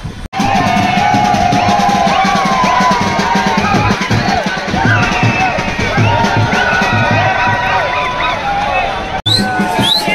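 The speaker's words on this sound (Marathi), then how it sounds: "ह्या ठिकाणी मुंबईमध्ये मरीन लाईनच्या इथे किती गर्दी झाली आहे तुम्ही बघू शकता।" A huge crowd packing the road at Marine Lines, Mumbai, for the Team India T20 World Cup victory parade near Wankhede Stadium, with loud continuous babble, yells and whoops from many voices close around, briefly cut by a short gap near the end.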